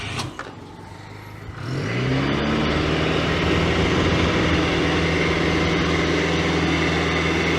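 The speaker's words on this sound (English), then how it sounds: "Nope, I'm going to have to start the engine." A Citroen GSA fitted to run on three wheels cranks and starts its engine, which then settles into a steady, loud, close running drone on a track with no talking.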